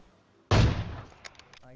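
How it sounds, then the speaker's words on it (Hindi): Gunfire in the mobile battle-royale game PUBG Mobile: a single loud shot bursts in midway, followed by a decaying echo and a few faint clicks. "जो भी बंदा भगता हुआ दिख रहा है उस पर अंधी फायरिंग बोल देता हूँ"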